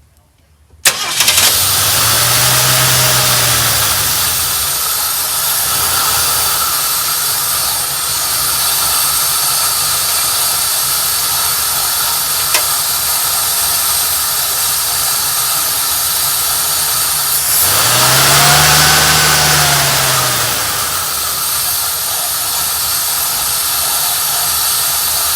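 A 1972 Ford F100 pickup truck, a junkyard rescue fitted with a replacement carburetor, cranks and catches after years unused, then runs at a steady loud idle with two rising revs.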